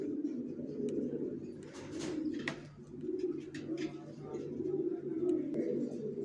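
Racer pigeons coo in low, throaty, repeated rolling calls, close and continuous, with faint clicks and rustles and a few higher chirps on top.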